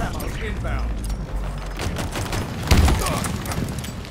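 A grenade blast goes off in Halo Infinite split-screen multiplayer amid rattling gunfire, a sudden loud burst near the end of a busy stretch of combat, while players talk.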